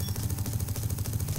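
Hawkeye autocannon firing in the TerraTech video game, a rapid steady stream of heavy, punchy shots with a thumping low end, loud and continuous throughout.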